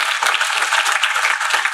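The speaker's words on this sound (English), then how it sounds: "We need a round of applause for that" An audience at a public library award ceremony for an American Indian writer breaks into brisk applause, a dense crackling mass of hand claps heard close and steady throughout.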